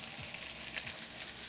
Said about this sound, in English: while these are frying up, we're also going to season them as they cook